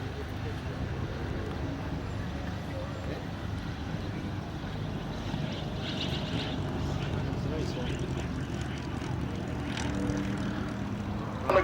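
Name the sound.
vintage aircraft landing at an airshow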